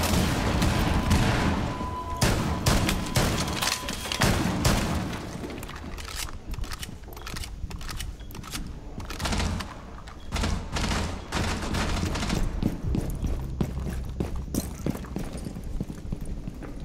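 Gunfire in the video game Rainbow Six Siege on the Consulate map, rapid irregular shots and thuds in loud clustered bursts, some booming, continuing throughout.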